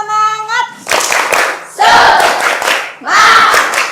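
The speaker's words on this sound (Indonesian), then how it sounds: "Tepuk semangat." A group of students doing a rhythmic spirit clap in a classroom, loud bursts of clapping and shouting that come in three waves right after a short spoken cue.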